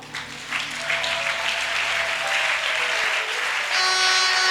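A church congregation applauds loudly after a sermon, a dense, steady wash of many hands clapping for several seconds, swelling slightly toward the end with faint organ-like tones underneath.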